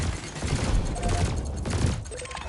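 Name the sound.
weapons firing in the video game Elite Dangerous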